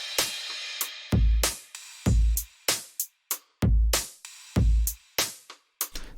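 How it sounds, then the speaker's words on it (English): Produced drum loop with added cymbals and extra percussion, punchy kicks and snare hits in a steady pattern with cymbal wash and ambient tails between beats, clear and up front with no voices. "We'll add some cymbals,"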